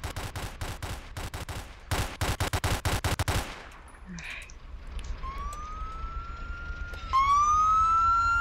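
Rapid automatic gunfire in the Roblox game City of Vancouver crackles in fast bursts for about three seconds, then stops and gives way to a rising police siren wail that grows louder toward the end.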